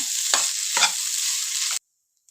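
Rice is stirred in a hot pan for chitranna (lemon rice) with a steady sizzle and two scraping strokes, then the sound cuts off abruptly.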